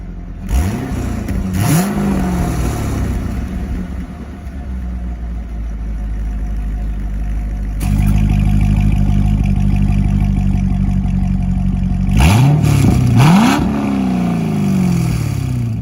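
A C6 Corvette's aftermarket exhaust roars through several sharp revs that rise and fall as its valves open, then holds a loud, deep idle before more throaty revving bursts near the end.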